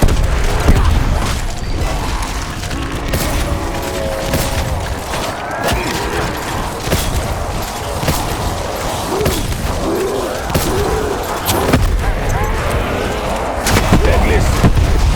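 Explosions and gunfire from a hardcore round of the game Voyage of Despair: a dense, continuous barrage of booms, thuds and shots, loud and close throughout, with a voice talking faintly underneath.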